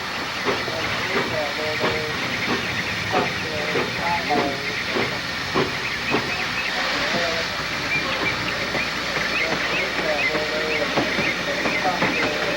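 ET&WNC (Tweetsie) steam locomotive No. 11 turning its wartime passenger train on a wye, with steady steam hiss and rhythmic chuffing beats close by, along with faint rail clanking.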